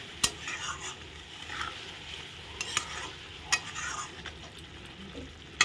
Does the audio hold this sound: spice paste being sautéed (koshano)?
yes